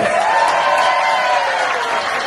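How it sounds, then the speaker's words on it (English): A short stretch of crowd applause at a rock music cruise shred guitar contest, dense and steady clapping filling the room at a fairly loud level. "Everybody give this kid a round of applause."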